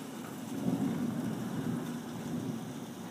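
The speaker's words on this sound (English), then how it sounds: "Thunder and lightning." Low thunder rumbles under steady rain, fairly quiet and distant, a continuous wash of storm noise.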